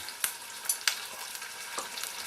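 Chopped ginger fries in a pan with a steady hiss of sizzling oil, broken by several sharp clicks and scrapes from stirring, close up with no voices.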